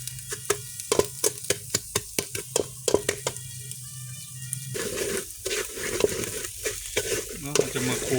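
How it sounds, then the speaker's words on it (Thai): Sugar caramelizing in a pot for Lao-Thai braised eggs, stirred in a steady run of scraping strokes over a soft sizzle, close and clear, with the stirring growing busier and bubblier toward the end. "เราจะมาขั่วน้ำตาลให้มันดำๆมันเหลืองๆมันขั่วน้ำตาลให้มันลดลงอีกนิดนึง"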